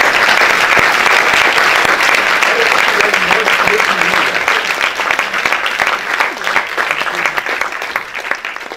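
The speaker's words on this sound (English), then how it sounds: "Please give her a great applause" Conference audience at an international congress giving a loud, sustained round of applause, dense clapping that stays strong before gradually thinning and tapering toward the end.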